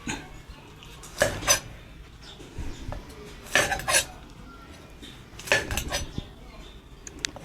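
A knife slices a boiled duck egg on a board, producing three distinct clicking strikes with quieter scraping between them, close by.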